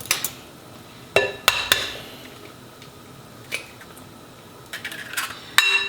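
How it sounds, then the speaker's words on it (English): Three eggs cracked against a bowl of plain flour and baking powder for Thai sweetcorn fritters, a few sharp separate taps and clicks spread over several seconds in a quiet kitchen. "we're going to break 3 eggs in"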